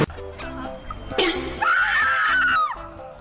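A coworker on a construction site lets out a loud, sustained high scream lasting over a second, preceded by shorter shrieks and cries with a little laughter nearby.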